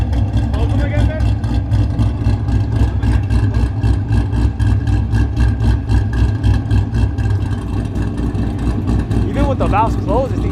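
A boosted Nissan 350Z idles loudly with its exhaust valves closed, a steady, deep engine drone filling the whole clip close up, while people talk over it.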